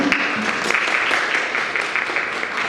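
Dense, steady clapping from a crowd at a literary prize presentation, even and sustained throughout with no pauses.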